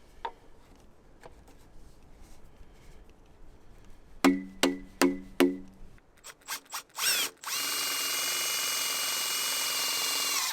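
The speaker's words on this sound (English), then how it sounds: "I'm drilling 2 holes in the sides of the bottom cap here" A power drill bores holes in the side of a PVC pipe bottom cap. Several short clicking bursts come first, then the motor rises and whines steadily, loud and close, with no talk.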